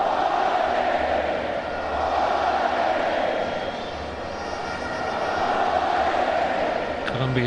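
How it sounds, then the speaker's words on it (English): Football crowd at a Colombia v Ecuador match, with fans cheering each Colombia pass: a continuous dense roar from a large stadium, swelling and easing, under faint commentary. "Colombia fans beginning to cheer every pass"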